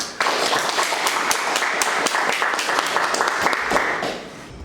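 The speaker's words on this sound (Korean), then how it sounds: "모두들 큰 박수로 맞아주시기 바랍니다" Applause from a seated audience at a Korean economic forum on AI and industry, greeting a National Assembly member stepping up to give congratulatory remarks; steady dense clapping for about four seconds, then fading out.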